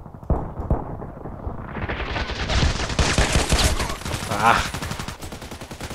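Rapid TT pistol shots crack out in Contract Wars, a dense run of loud, close gunfire over several seconds with echoing tails, and a brief voiced exclamation partway through.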